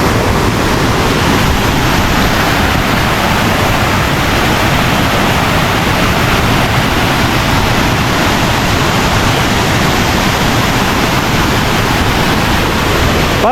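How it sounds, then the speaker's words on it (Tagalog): Kuang Si Falls in Luang Prabang, a steady loud roar of rushing water with constant broadband hiss and no voices or breaks. "Yung pakikinggan mo lang yung tunog ng waterfalls,"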